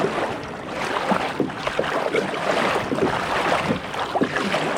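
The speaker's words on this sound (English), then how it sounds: "there's been nothing but like motorboats going through and wake boats" Steady broadband rumble of motorboats and wake boats moving across a lake, with wake and chop splashing nearby and a constant low engine drone throughout.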